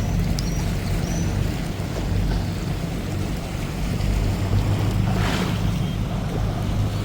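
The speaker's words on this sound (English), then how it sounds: "Let's just listen for a minute at the waves just lapping around the harbour wall." Steady wash of sea water lapping against a harbour wall on Rhodes in the Eastern Mediterranean, with constant low rumble and light wind noise throughout, no voices.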